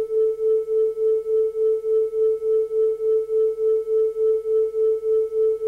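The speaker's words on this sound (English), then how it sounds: "We hear there a beat frequency of 5 Hz." Two flutes at different temperatures sound the same note together, and their slight detuning makes a steady tone that swells and fades in a regular 5 Hz beat pulsing throughout.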